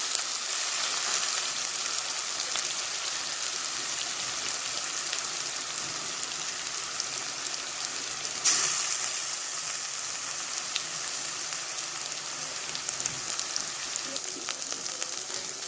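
Spice masala sizzling and roasting in hot oil in a pan for chole bhaji, a steady close crackling hiss with a brief louder burst of sizzle midway, while being stirred.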